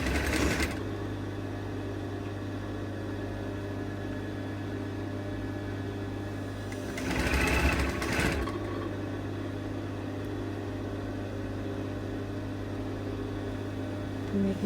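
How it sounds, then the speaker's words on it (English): A sewing machine stitching a French seam on a gathered cloud sleeve, a steady close hum that runs throughout with a brief louder, faster burst partway through. "as you're sewing the French seam"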